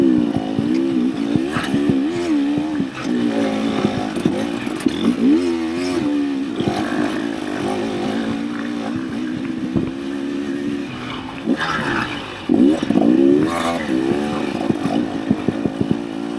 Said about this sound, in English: That bike looks good coming through the woods, Skip.